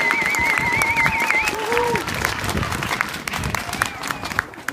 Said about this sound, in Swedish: En extra applåd för Paloma och Nina